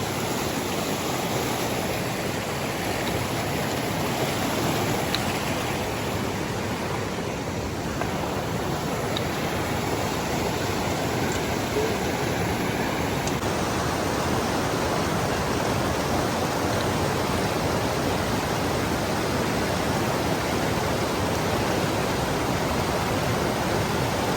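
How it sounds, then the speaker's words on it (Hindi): Himalayan river rushing over small boulders, a steady, dense broadband roar of flowing water heard close by and alone, without pause. "तो इस जगह पे एक नदी कुछ ऐसे बोल्डर लगे हुए छोटे छोटे"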